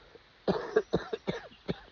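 A short burst of several harsh coughs in quick succession, close and moderately loud, with no talking.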